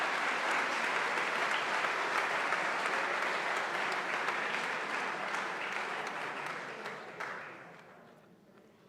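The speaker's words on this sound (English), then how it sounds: "You may now have a big round of applause and be seated." A large audience gives a long round of applause at a school matric valedictory ceremony. The dense, even clapping stays strong, then tapers off and fades near the end.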